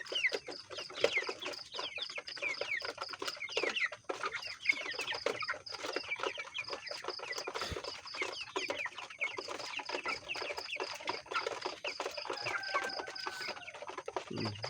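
Flock of 45-day-old broiler chickens clucking and chattering continuously at feeding time in a pre-dawn coop, a dense, steady mix of many overlapping calls at moderate distance with no talking.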